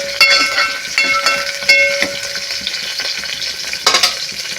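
Chopped onions fry in hot oil in a pan for a rasam tempering, giving a loud, steady sizzle and hiss with a few sharp stirring clinks and scrapes near the start and end.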